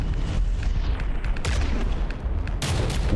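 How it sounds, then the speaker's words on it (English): Proximity explosions during a battleship fight in From the Depths: a steady barrage of booming blasts and gunfire-like cracks, one big burst near the end, with no talking. "so we got proximity explosion"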